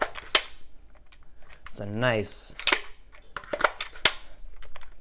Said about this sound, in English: Ooh, that is clicky. That is a lot clickier than I thought. Wow, there's a lot of feedback on that trigger pull.